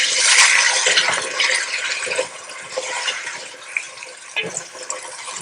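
Water poured into a pot of shrimp biryani cooking on the stove, a steady close splashing rush that eases into softer bubbling and sizzling.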